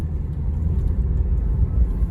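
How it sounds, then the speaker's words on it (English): Loose, unscrewed door panels rattle inside a 2005 Jeep Liberty while it drives, a steady low road rumble and engine drone filling the cabin with the rattling buried in it, no voices. "if you guys can hear the rattling right now, that's actually these door panels"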